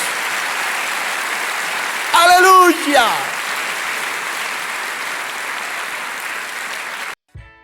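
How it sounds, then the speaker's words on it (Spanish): A church congregation claps steadily and loudly throughout, with a voice shouting out briefly near the start before the applause carries on alone and stops abruptly at the end. "Denle un aplauso a Dios si entendió este mensaje de la palabra de Dios."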